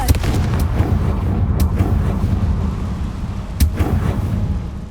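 Confringo fire spell blasts in the Hogwarts Legacy video game: two sharp booming bursts, near and loud, over a dense rumbling game background.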